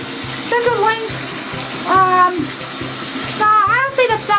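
Bath water runs steadily into a tub, a continuous splashing rush with a faint rhythmic knocking beneath it, while a voice speaks in short bursts over the flow.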